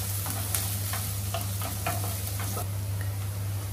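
Chopped onions fry in a pan for a hilsa and eggplant curry, giving a steady hiss over a constant low hum, with scattered soft clicks and taps of a spoon against the pan throughout.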